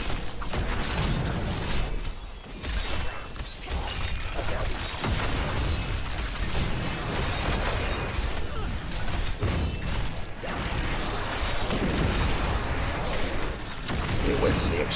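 Explosions and clattering combat in Diablo 3 with a Necromancer, a dense, continuous barrage of booms, crashes and mechanical rattles at steady loudness, with someone talking over the action.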